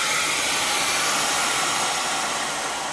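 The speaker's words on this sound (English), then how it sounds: "I can just easily attach this to the handle and turn my vacuum on" A Miele vacuum cleaner fitted with an upholstery nozzle runs with a steady, loud, even whooshing roar that holds throughout, without any talk.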